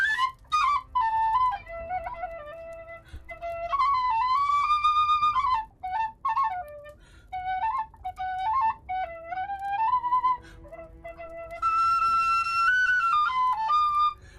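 Tin whistle played solo in a long, lively melody of clear high notes with ornaments, fairly loud and close, with short breaks between phrases and no talking.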